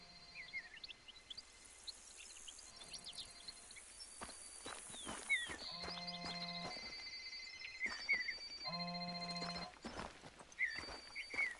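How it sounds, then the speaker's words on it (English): Phones ring inside a tent in The Hunter: Call of the Wild, with repeated electronic trilling tones sounding in separate bursts, loud and fairly close, over a quiet outdoor ambience with some footstep-like thuds. "Can you hear the phones ringing?"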